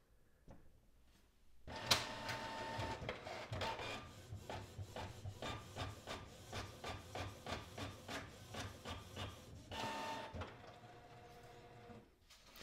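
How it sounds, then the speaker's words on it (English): A Canon PIXMA MG3620 inkjet printer prints a page, starting with a sharp mechanical clunk and then a long run of rhythmic whirring and ratcheting passes before settling back to quiet. "I will press print when I'm ready. Make sure that you have paper inserted inside of the printer."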